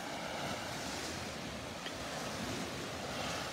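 Steady roar of ocean surf on a Gulf beach at Delnor-Wiggins at dawn, waves dying down, heard as a continuous loud wash with some wind noise on the microphone and no talking.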